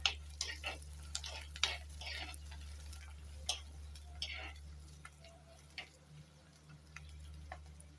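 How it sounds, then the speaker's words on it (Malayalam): Ginger, curry leaves and garlic frying in hot oil while being stirred, with scattered ticks and taps of a utensil against the pan over a low steady hum; a voice speaks faintly at times. "ഇഞ്ചി കരിവേപ്പില വെളുത്തുള്ളി നമുക്കിതെല്ലാം കൂടെ എണ്ണയിലോട്ടങ്ങ് ഇട്ട് കൊടുക്കാം ഇളക്കാം"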